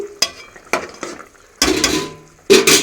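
Drumstick and potato curry being stirred in a pot: a spoon scrapes and knocks against the metal in irregular bursts, close and fairly loud, with a soft sizzle between strokes and no talk.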